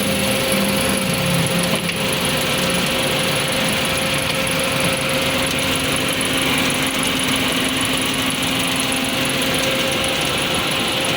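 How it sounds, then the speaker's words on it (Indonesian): Idling engine of a Suzuki Karimun Wagon car with the air conditioning switched on, a steady mechanical hum with faint whirring and ticking held at a constant level throughout, close to the microphone, with no talking. "Nah, sekarang ini untuk mesinnya udah hidup,"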